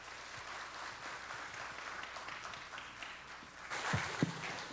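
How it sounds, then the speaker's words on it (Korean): Church congregation applauding to welcome a visiting pastor to the pulpit during a Sunday afternoon service, a steady wash of clapping that swells with a few louder claps near the end. "나오실 때 박수로 환영해 주시면 감사하겠습니다"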